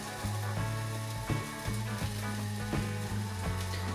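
Tomatoes drop into a cheese and tomato omelette cooking in a hot pan, raising a steady close sizzle with a few soft knocks and taps, no talking.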